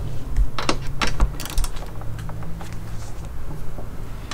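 A Harbor Freight T-ratchet clicks in short bursts of pawl ticks while tightening a bolt during a front-mount intercooler install on a car, close up, with a low hum underneath.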